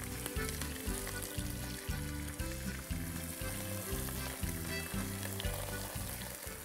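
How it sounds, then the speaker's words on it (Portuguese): Onion, garlic and beef ribs sizzling in a pot for rib soup, a loud continuous frying crackle with a steady hiss, no talk. "Vou pôr aqui a cebola, o alho, vou colocar a costela, arrumando ela aqui por cima."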